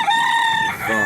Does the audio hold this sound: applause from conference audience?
no